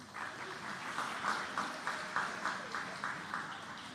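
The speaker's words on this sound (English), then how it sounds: "Can we get another round of applause, please?" Faint applause from a human rights celebration gala audience, a thin, distant patter of hands with a few slightly louder bursts, continuing evenly throughout.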